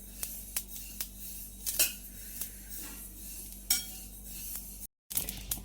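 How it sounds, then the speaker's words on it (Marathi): Sesame seeds dry roasting in a pan over a low flame are stirred continuously, making quiet, intermittent scraping and light clinks of a utensil against the pan with no sizzle. "लो फ्लेमवर सतत हलवत राहायचे आहे तिळ खमंग भाजतील याप्रमाणे आपल्याला हलवत राहायचं आहे"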